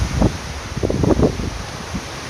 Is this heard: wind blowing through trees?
yes